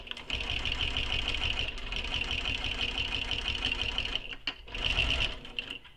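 A sewing machine stitches lines across a fabric circular bag, running in a fast, steady mechanical patter with one short pause before resuming, close and moderately loud.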